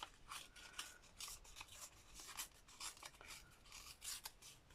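Paper being torn by hand for a collage, a series of faint, close rasping rips and rustles in irregular bursts, quiet and without talk.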